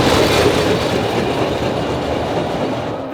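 A steady, continuous rumble of a cart's wheels rolling along the Death Railway in Kanchanaburi, Thailand, loud and close, with a faint clickety rhythm and no voices.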